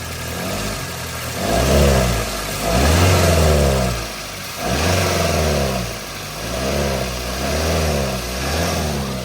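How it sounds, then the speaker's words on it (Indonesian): An old Toyota Avanza with 300,000 kilometers on it has its engine revved repeatedly, each press of the throttle swelling into a deep, droning roar from the air filter and then dropping back to idle, up close and without speech. "Ini kalau digas juga gerung dari filter udaranya"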